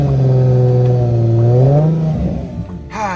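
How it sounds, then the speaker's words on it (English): A hybrid car's engine revs up in a single steady climb, holds briefly, then drops back toward idle with a rattle as it settles; loud and close, with no talking. "Give you guys a few revs."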